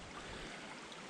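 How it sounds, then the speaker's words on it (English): A well-flowing creek rushes steadily with broadband water noise, faint and even throughout the short stretch, with no voices. "this is a good flowing creek"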